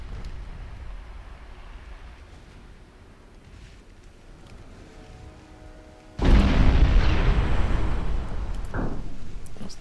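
A shell strikes a destroyer in the Ultimate Admiral Dreadnoughts naval game, a sudden loud booming explosion that bursts in after a quiet stretch of wind and water ambience and then rumbles on with lingering roar.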